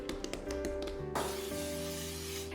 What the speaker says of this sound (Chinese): 指关节拍打排气，尽量把面团里的小气泡挤压出来